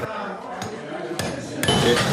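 A blacksmith swings a hammer, its sharp metallic strikes ringing out a few times over a steady background as someone speaks nearby.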